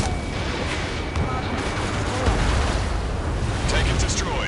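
Missiles strike and destroy ground targets in the combat flight game Ace Combat 7, a dense, continuous rumble of blasts and gunfire-like crackle over steady jet noise, with game radio voices talking.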